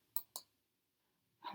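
Two sharp, close clicks of a computer mouse a moment apart on a MacBook setup, followed by silence and then a brief soft rustle.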